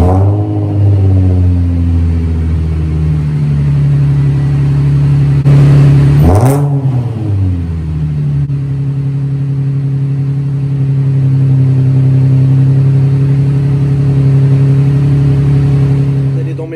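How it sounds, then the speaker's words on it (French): A car with first-generation push-button start is started from cold: the engine catches, flares into a sharp rev, then settles into a steady, rumbling idle that carries on close and loud. "Écoutez ça, c'est le démarrage du véhicule à froid"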